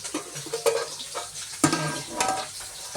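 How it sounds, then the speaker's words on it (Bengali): Fish fries in a pan on a home kitchen stove with a faint, steady sizzle. Quiet spatula stirs and scrapes sound through it, and a louder clink comes midway. "এখানে মাছ ভাজা হচ্ছে"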